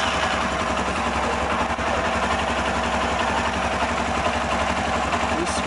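A Honda CB 300R motorcycle engine runs at a steady idle after starting, a continuous close mechanical hum and ticking in a workshop setting, with faint talk.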